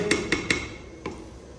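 A lid is set on a cooking pot of simmering meat and cauliflower (gobhi gosht): three quick metallic clinks close together, then one softer clink after a short pause, with no voices.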